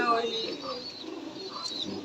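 Rajshahi Giribaz pigeons coo softly in a loft, low murmuring calls mixed with faint chirps under people talking nearby.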